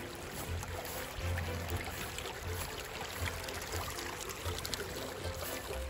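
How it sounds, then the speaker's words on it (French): A small stream flows steadily near the sea, giving a continuous close wash of trickling, gurgling water with no voices. "Le petit ruisseau que j'aime bien."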